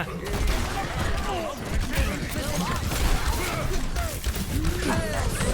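Steady gunfire in Overwatch, with Bob, Ashe's robot companion, shooting, keeps up a continuous rattle of shots and clanking hits, mixed with busy match sounds and a voice chattering over it.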